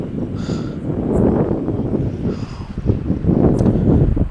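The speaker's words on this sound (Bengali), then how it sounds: "প্রচুর হাওয়া দিচ্ছে এখানে" Strong night wind blows outdoors near a school, about 15 km from the seashore, gusting in rough, rising and falling buffets against the microphone.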